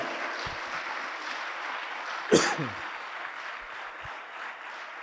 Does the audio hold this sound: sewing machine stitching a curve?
no